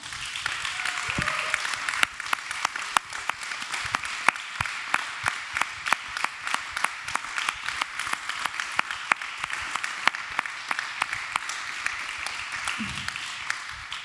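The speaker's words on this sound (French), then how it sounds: "Je propose d'applaudir nos 3 intervenants." Sustained applause from an audience at a climate festival panel, a dense patter of many hands clapping steadily throughout at even loudness.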